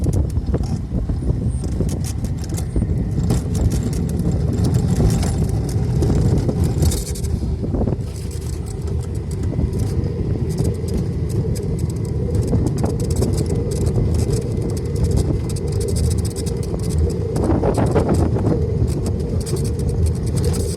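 A rail lorry's engine runs as the throttle is pulled back slowly to avoid wheel slip, a loud, continuous low rumble with broadband wind-like noise, rising slightly in places and holding steady throughout.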